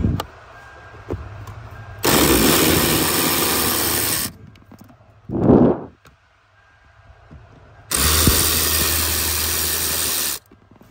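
A power tool with a socket removes the blower fan of a 2008 Mitsubishi Lancer: two loud, sustained whirring bursts of a few seconds each, separated by a brief clunk and quiet workshop background.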